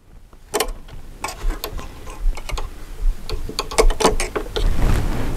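A serger sewing machine stitches a fabric binding in quick, uneven bursts of mechanical ticking and clattering, close and fairly loud, with pauses between short runs.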